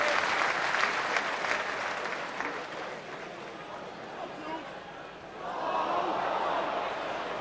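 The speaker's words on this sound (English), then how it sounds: "applause for Simon Grayson" Football crowd applauding a Leicester City player during a 1994/95 match against Blackburn, a broad, steady wash of clapping from a large stadium crowd that dips midway and swells again, with a commentator talking over it.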